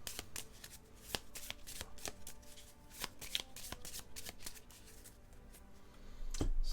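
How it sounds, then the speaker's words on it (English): A deck of cards for the Star Wars Pandemic board game being reshuffled by hand, a rapid run of crisp riffling flutters and slaps close to the mic over about seven seconds, with no talking. "I actually need to reshuffle this entire deck here because I went through it"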